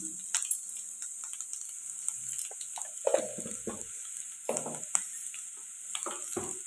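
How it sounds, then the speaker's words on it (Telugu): Carrot and potato pieces fry in a pan over a medium flame, giving a steady soft sizzle broken by intermittent scraping and clattering stirs, close and moderately loud with no talk. "కొంచెం మంటని మీడియం ఫ్లేమ్లో పెట్టుకొని ఇలా ఫ్రై చేసుకోవాలండి"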